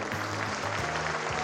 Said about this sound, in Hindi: एक बार पूरे मंच के लिए तालियां हो जाएं